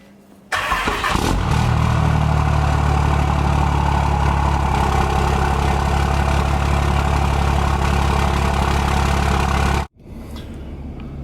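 Heard from inside the cab, a Cummins diesel cranks and fires up abruptly, then settles into a steady, loud, low idle drone that runs for about nine seconds before cutting out, with no talking.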